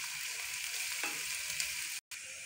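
Ginger garlic paste fries in hot oil in a pan, a steady close sizzle with a brief stirring scrape and a short cut near the end.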